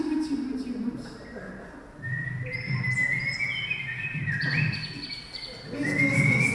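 A person whistles in imitation of a nightingale, producing clear, warbling high notes that rise and glide in short phrases, with low background sounds underneath.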